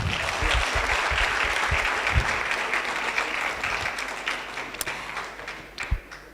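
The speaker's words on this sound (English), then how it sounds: "Please give them a round of applause." An audience at a South African accessible tourism summit claps, the applause loud at first, then gradually thinning, with a few scattered claps toward the end.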